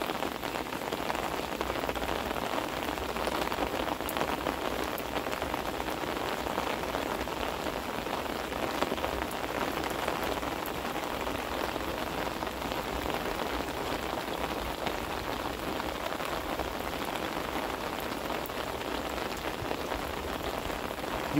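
Heavy pouring rain drums steadily on an umbrella and surrounding surfaces outdoors, a dense, unbroken wash of sound that stays loud and even throughout with no voices.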